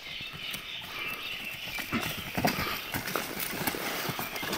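A horse at a Karkyra horse market or gathering, with clip-clop hoof sounds and some movement amid steady outdoor crowd noise, the animal close and moderately loud.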